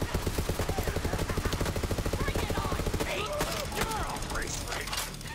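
A rifle with a sniper mode fires in Borderlands 3, a rapid, steady stream of sharp shots for about three seconds, then scattered chirpy game effects and faint voices.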